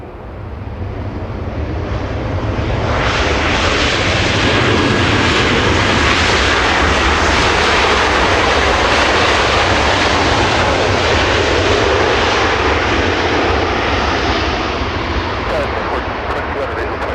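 A jet airliner at Los Angeles International Airport roars loudly and steadily nearby, swelling to a sustained broadband rumble with wind buffeting, and faint voices beneath.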